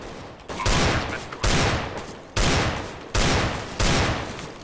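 Rapid bursts of gunfire in the video game CS:GO, five loud volleys spaced about a second apart, each cracking sharply and then trailing off, with no talk over them.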